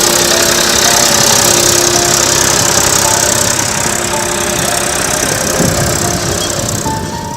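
A tractor engine runs with a steady, knocking idle and a close, loud mechanical vibration, continuous throughout and without speech.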